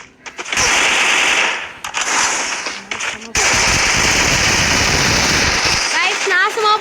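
Explosives going off in a video game, bursts of rapid crackling blasts and gunfire-like pops that repeat across the stretch, loud and close, with a player talking over them.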